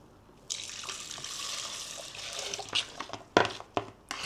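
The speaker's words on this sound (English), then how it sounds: "we're gonna add the milk back into our little" Milk poured back into a small pot while making banana pudding: a steady liquid pour for a few seconds, close and moderately loud, followed by a few splashes and clinks, with no talking.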